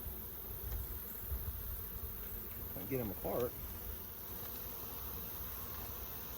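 Soft, steady buzzing of honey bees throughout, during a varroa mite treatment in Texas, with a brief spoken phrase in the middle.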